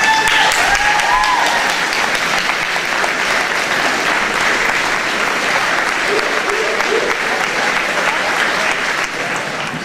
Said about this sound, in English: please rise and honor their parents by giving them a round of applause